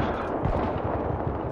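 A semi-automatic sniper rifle firing in the Battlefield 3 video game, a loud, dense burst of booming gunfire filling the moment with heavy rumbling low end and no talk.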